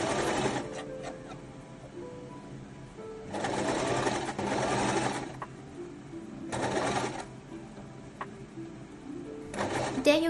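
A sewing machine topstitches binding around the armhole of a one-shoulder scarf dress, running in several short bursts of steady whirring with brief pauses between them.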